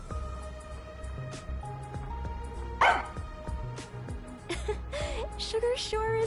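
A dog in the video game Master Detective Archives RainCode lets out a single short bark midway, set against steady in-game background music, with voices speaking around it.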